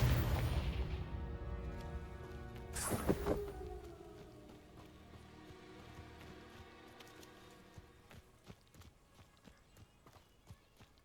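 A Confringo blast spell from the Hogwarts Legacy video game bursts as a loud, bright impact near the start, then fades into a rumbling, crackling tail under steady background game noise.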